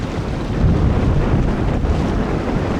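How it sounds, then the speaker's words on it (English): Stiff breeze buffets the microphone as the Mingming II sailboat beats to windward on the River Crouch under four mainsail panels, a loud steady rush of wind and water with no voices. "beating to windward in a pretty stiff breeze"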